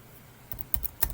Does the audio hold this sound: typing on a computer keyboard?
yes